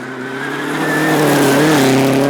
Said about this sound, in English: Chris Greenhouse doesn't lift his right foot off the throttle.